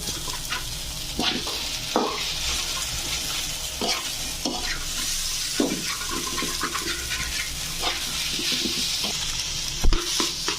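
Eggs being stirred and mixed in a hot frying pan, a steady scraping sizzle with repeated spatula strokes at close range and no voices.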